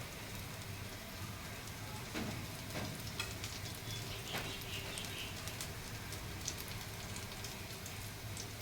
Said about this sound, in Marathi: बाकीच्या मी फ्राय करते साईड बाय साईड